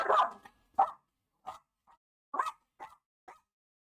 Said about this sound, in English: The dog gets annoyed at people that come to the door.